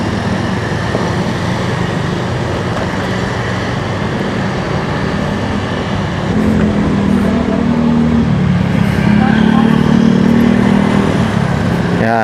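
Busy roadside traffic at a jeepney terminal on MacArthur Highway in San Fernando, Pampanga: constant loud rumble of idling and passing engines, a heavier diesel drone swelling midway, with no clear voices.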